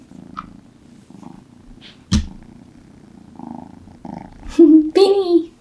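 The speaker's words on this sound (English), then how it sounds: "Can you guys hear her purring?" A kitten purrs softly and steadily up close, with a few brief louder sounds near the end.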